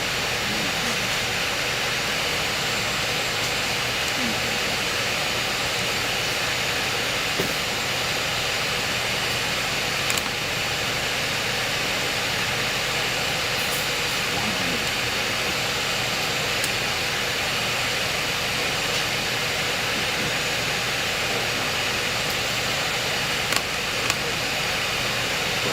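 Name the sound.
Airbus A320neo engines at takeoff thrust, MSFS 2024 video game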